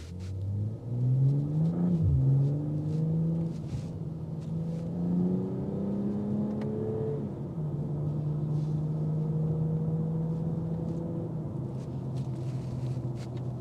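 BMW M440i coupe exhaust burbling while driving, a deep continuous engine drone with pitch rising and falling through gear changes, steady and prominent with no voices.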